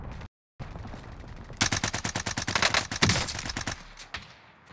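Rapid automatic gunfire in the Warzone video game on Rebirth Island: after a brief cut to silence, a dense burst of sharp shots rattles off in quick succession, fairly close, then trails off with a last stray shot.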